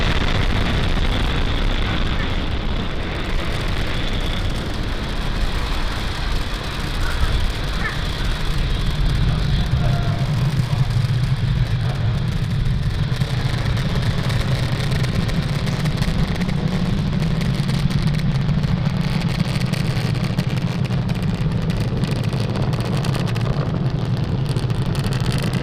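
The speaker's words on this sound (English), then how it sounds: "Falcon 9 has cleared the tower, lifted off from Cape Canaveral Space Force Station" A SpaceX Falcon 9 rocket lifting off from Cape Canaveral Space Force Station sends up a broad, steady roar that stays loud throughout, with a deeper rumble swelling about halfway through and a voice speaking over part of it.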